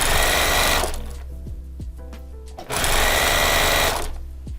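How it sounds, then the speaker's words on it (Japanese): A sewing machine stitches knit fabric in two loud, fast bursts of rapid needle clatter, separated by a quieter pause with small handling clicks and fabric rustle, close to the microphone. "で真ん中あたりに来たら1回返し縫いをして間8センチほど開けて縫い進めてください。"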